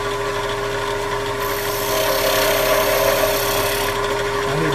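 A spindle gouge cuts a small wooden snowman ornament spinning on a lathe, giving a steady close hiss and scrape over the motor's hum, swelling briefly in the middle of the cut.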